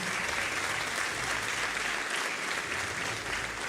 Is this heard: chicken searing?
no